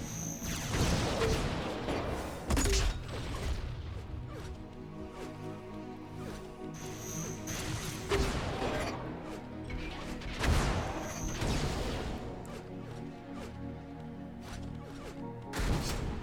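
Flak cannon blasts and rocket fire in an Unreal Tournament match, a run of sharp crashing shots and bursts spaced a few seconds apart over constant game ambience.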